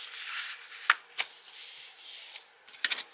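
A sheet of white paper being folded over and creased by hand while making a Valentine card, with soft close rustling and several crisp sharp crease snaps, no talking.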